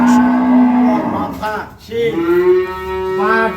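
A dairy cow moos loudly and close by on a farm, two long drawn-out lowing calls in quick succession.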